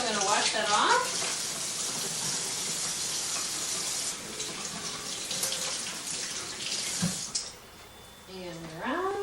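Tap water runs steadily into a sink as egg is rinsed off hands, a broad continuous splashing rush that drops out briefly near the end while a voice speaks over the start and finish.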